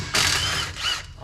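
A ratchet backs out differential cover bolts on a Ram Power Wagon, making a close, loud, buzzy whirring burst that pauses briefly and then repeats.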